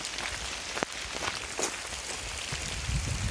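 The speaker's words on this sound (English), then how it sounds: "Oh my god, it's raining so hard." Heavy rain falling outdoors near an Irish bog, a dense, steady hiss of drops striking surfaces with scattered sharper patters.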